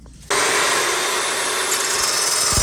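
Power tool cutting metal frame tubes for an outdoor kitchen, a loud, steady, harsh grinding whine that starts abruptly after a brief pause and continues close up.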